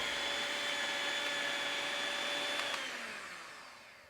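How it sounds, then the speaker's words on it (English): A blender runs at a steady high whine while mixing tiramisu cream, then spins down and fades after a few seconds, heard close and alone. "let's get the blender back again"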